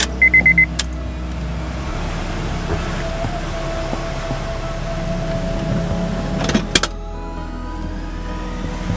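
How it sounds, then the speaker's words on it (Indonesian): A third-generation Honda CR-V engine cranks with a brief burst and catches, then settles into a steady, close idle hum with a faint whine over it. "Kita hidupkan mobilnya."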